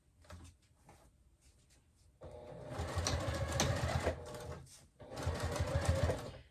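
A sewing machine stitches through a thick, foam-lined zippered clutch purse in two steady whirring runs, the second after a brief pause, loud and close after a quieter stretch of faint handling.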